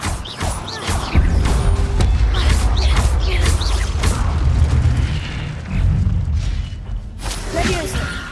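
A fire spell cast in the game Hogwarts Legacy bursts out as a loud, sustained roaring rush with crackling booms lasting several seconds, trailing off near the end.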